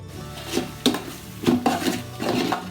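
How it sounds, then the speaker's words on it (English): Chicken pieces are stirred in a pan, with a metal utensil scraping and clinking against the pan in uneven strokes over a faint sizzle, close and alone. "After mixing the chicken for a few minutes, take out the chicken pieces alone to another pan."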